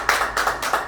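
An audience clapping at a talk in a Korean life-school gathering, a short stretch of a few even, rhythmic claps in a roomy space.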